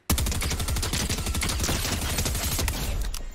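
Rapid bursts of combat SMG fire in Fortnite, a dense run of sharp shots that starts abruptly and stays loud and close for about three seconds, with no talk over it.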